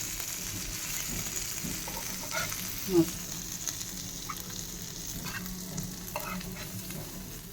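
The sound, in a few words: bangda mackerel fish frying crisp in a pan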